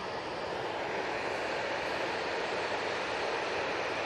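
EasyJet airliner at Manchester Airport, a steady broadband engine rush holding at an even, moderate level throughout with no talk.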